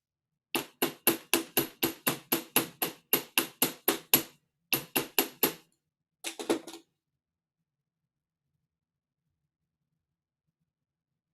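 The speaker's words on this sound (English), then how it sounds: "I'm going to go hammer this a little bit." A hammer taps a thin wire pin into place with a quick run of about twenty sharp, evenly spaced strikes, a short pause, then a few lighter taps before silence. The taps are close and crisp, with no voices.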